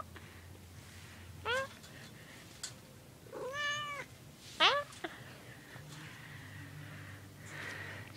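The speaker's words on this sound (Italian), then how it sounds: "un gatto!" A cat meows several times outdoors, short rising calls with one drawn-out wail in the middle, fairly close but soft against a low steady background hum.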